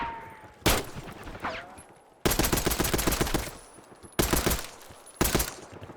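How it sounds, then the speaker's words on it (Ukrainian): Automatic gunfire in Call of Duty Black Ops 6 comes in four loud bursts of rapid shots separated by short gaps, with faint game effects and a brief whistle between them. "Бля, я все прострілюю, бо я не знаю, де челіки."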